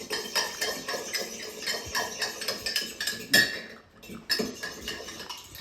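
A fork beats three cracked eggs with salt in a bowl at a brunch cooking session, giving a steady run of quick metallic clinks and scrapes against the bowl, close and fairly loud, with one brief pause near the end.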